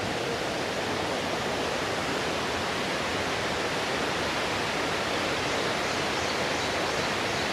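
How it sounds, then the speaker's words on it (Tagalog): Water rushes steadily through Takachiho Gorge, a dense unbroken roar of flowing stream or waterfall, even in loudness throughout with no voices. "And nakaka-rejuvenate yung tunog ng tubig,"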